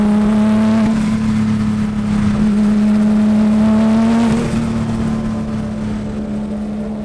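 A 420 hp 1982 Porsche 911 drives along Mulholland Drive, its engine holding a loud, steady drone with rich harmonics that eases slightly toward the end, with no talking.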